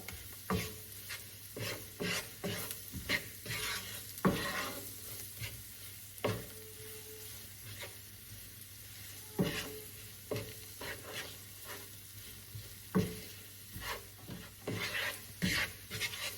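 Onions cook in olive oil with seasonings over low heat, giving a soft, steady sizzle with repeated close scrapes and taps of a utensil stirring the pan, fairly quiet and without talk.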